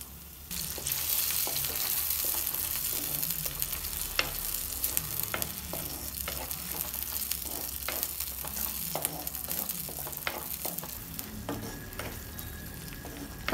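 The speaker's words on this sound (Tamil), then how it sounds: "தக்காளி நல்லா வதக்கியாச்சு." Ground tomato puree frying in a pan with ginger garlic paste for an egg curry, a steady close sizzle broken by repeated scraping ticks of a spoon stirring, with no talking.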